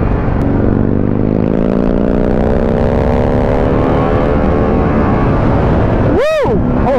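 A Harley-Davidson Pan America motorcycle accelerates hard in sport mode, its engine note climbing steadily in pitch under loud, constant wind rush, close up and continuous.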